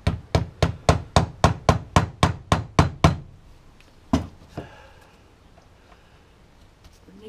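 A dozen quick, evenly spaced rubber mallet taps on a part of a 2004 Vauxhall Corsa C, followed by one more firm knock and a softer thud after a pause.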